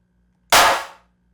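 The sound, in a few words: synthesized clap from Serum 2 generator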